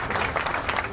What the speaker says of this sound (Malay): Berikan tepukan kepada atlet Malaysia, Pandalela Reno.